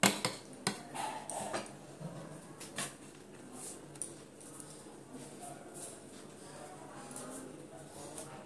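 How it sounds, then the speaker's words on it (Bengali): A spoon pressing and mixing food with a little water in a bowl, giving faint, scattered metallic clicks and scrapes at close range in a quiet room. "মাখিয়ে চামচ দিয়ে একটু চেপে চেপে দেবো"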